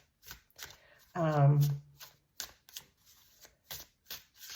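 Playing cards are riffled and snapped in quick bursts, close and crisp, with a short spoken phrase interrupting midway.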